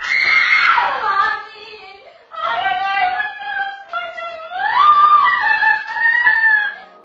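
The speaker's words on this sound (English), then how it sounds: "A deer comes crashing in through the window and freaks out the employee who just can't stop screaming" A store employee screaming as a deer crashes through a shop window, several long, loud, shrill screams in close succession with brief breaths between, close and raw.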